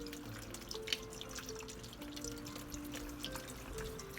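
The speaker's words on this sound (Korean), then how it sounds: "갈치의 내장을 정성스럽게 씻어내 주세요." Running water splashes and drips steadily while cutlassfish innards are rinsed clean in a kitchen sink, a continuous close trickle with small irregular spatters throughout.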